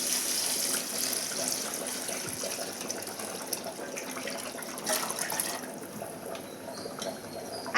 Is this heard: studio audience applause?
no